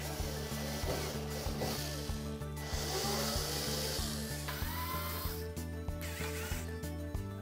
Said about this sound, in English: next, we'll remove these screws across the top.